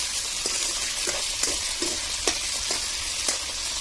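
Cauliflower frying in oil in a pan, a steady hissing sizzle with a few light clicks and scrapes from stirring; no one speaks.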